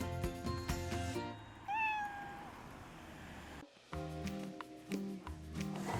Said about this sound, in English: The cats are very therapeutic, actually.